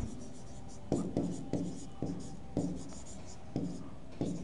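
Chalk or marker strokes scrape across a classroom board in short, regular bursts, each stroke a brief rasp repeating roughly every half second, with quiet talk faintly present.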